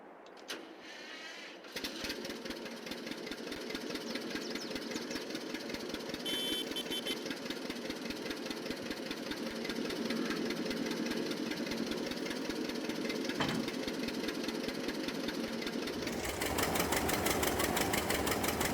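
A John Deere tractor engine idles steadily in Farming Simulator 22 on an old family farm, a continuous loud mechanical drone that holds for the whole stretch and grows slightly louder near the end, with no talking.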